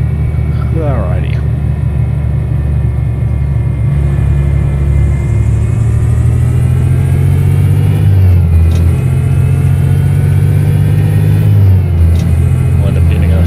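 A truck engine drones in the Euro Truck Simulator 2 video game. The loud, steady, low rumble runs throughout, with slight shifts in pitch and revs partway through.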